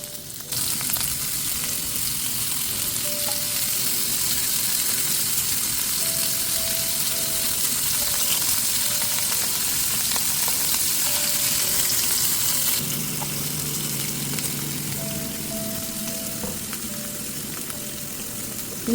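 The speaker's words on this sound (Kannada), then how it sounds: "ಫ್ರೈ ಮಾಡುವಾಗ ಸ್ವಲ್ಪ ಮೆಣಸಿನ ಹುಡಿನ ಹಾಕ್ಕೊಂಡು ಫ್ರೈ ಮಾಡ್ಕೊಳ್ಳೋಣ" Pineapple pieces frying in a pan with chilli powder, a loud continuous sizzle close by with a brief change in texture partway through as the food is stirred.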